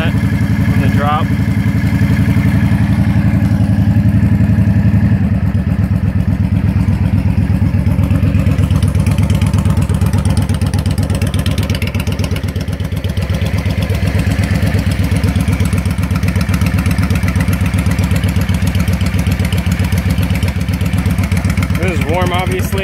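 A warm 2004 Yamaha V-Star 650 motorcycle idles nearby with a steady, loping low rumble throughout, and a person talks over the engine.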